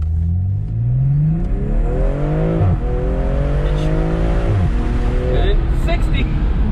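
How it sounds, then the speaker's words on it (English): A 2017 Corvette Grand Sport launches hard in first gear after a boosted start, its engine revving loudly and climbing through a shift, with a voice talking over the roar. "give us a little first gear launch. I'll do the 2 grand. Let it boost itself a little, build a little turbo boost"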